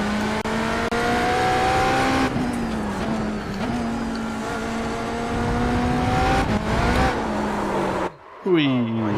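A GT3 race car in the iRacing sim drones steadily at high revs, with pitch shifts through gear changes, then briefly cuts out and swoops back up; a voice talks over it at points.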